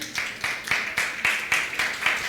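Church audience clapping during a pastor's sermon, a rhythmic, fairly faint series of regular claps in unison, evenly spaced and alone without talk.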